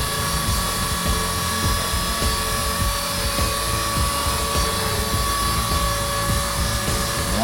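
An E-flite Blade SR radio-controlled helicopter flies nearby with a continuous high, whining rotor and motor drone holding steady throughout, with no talking.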